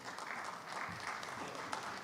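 Soft, dense clapping from an audience at the Milton annual town meeting, a brief steady patter heard from a distance.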